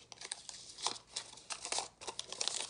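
Top sheet being peeled off glitter vinyl in a craft setup, giving soft crinkling and tearing rustles in uneven bursts, close but quiet.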